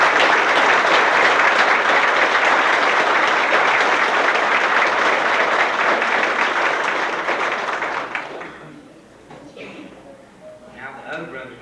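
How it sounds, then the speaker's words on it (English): Loud, full audience applause fills a hall for about eight seconds at a 1981 gathering, then quickly dies away, leaving a quiet room and a voice starting to speak. "I'd like to give you a big round of applause."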